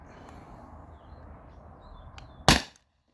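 A Beeman BP50 air pistol fires a single sharp, loud crack near the end of a quiet stretch of faint background hiss, then silence.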